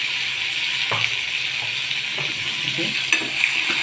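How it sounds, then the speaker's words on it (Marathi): Spice masala frying in oil in a pan, a constant bright hiss close up with occasional spoon scrapes and knocks, moderately loud, and no one speaking. "बघा, मी तिथे छान मसाला परतून घेतला"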